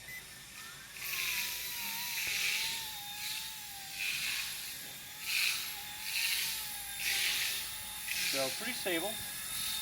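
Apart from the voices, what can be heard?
Vevor RC gyro-stabilized toy helicopter flying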